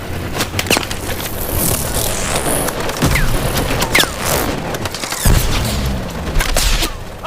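Loud bursts of gunfire at drones and booms amid a busy, noisy battle on the Golden Gate Bridge in Call of Duty: Advanced Warfare, with whooshes and mechanical clatter, continuous and close.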